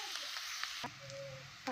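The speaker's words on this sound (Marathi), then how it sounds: "कांदा चांगला लाल होईपर्यंत चांगला भाजायचा" Onion fries in oil in a kadhai with a soft, steady hiss that is fairly faint and close.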